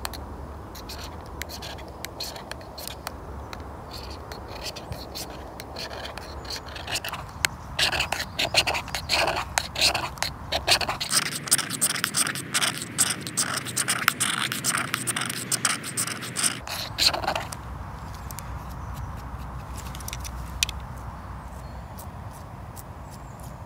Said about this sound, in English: We're going to use this to create a small pile of magnesium shavings.